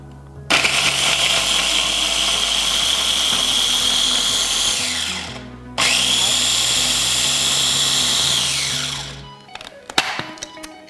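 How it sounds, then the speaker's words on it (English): An electric grinder whirs loudly and steadily, grinding garlic cloves for Khmer red curry paste in two long bursts, each winding down, followed by a few clattering knocks. "I'm gonna grind this first before I add the lemongrass"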